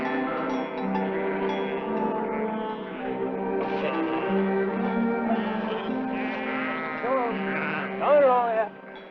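A flock of sheep bleats repeatedly, with overlapping calls and a louder, closer cry near the end, heard in an old Western television drama.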